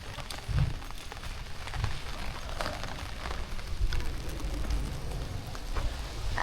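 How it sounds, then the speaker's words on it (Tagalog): Rain falls on a rainy day in Yokohama Chinatown with a steady patter on surfaces, mixed with scattered street noise and a few low thumps, moderately loud and continuous. "sayang nga, ulan man ang panahon"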